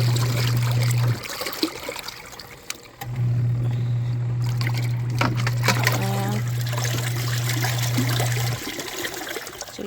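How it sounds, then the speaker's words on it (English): Dirty rinse water draining from a portable washing machine while doing laundry without RV water hookups, a steady trickle and splash of running water with a constant low hum, briefly pausing before resuming. "there's not as much dirty water coming out"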